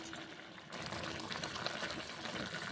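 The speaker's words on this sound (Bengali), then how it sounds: "জল দিলাম এইভাবে" Water pours steadily into a pot of radish greens with onion being cooked for a pressure cooker, a continuous close rushing splash that swells after a soft start and carries on to the end.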